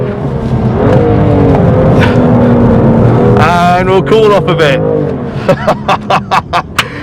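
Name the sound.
BMW M2 Competition driving on race track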